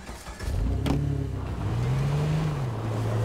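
Car engine in the video game H1Z1, a low droning hum that rises in pitch partway through as the vehicle speeds up, steady and fairly loud throughout with a brief sharp click near the start.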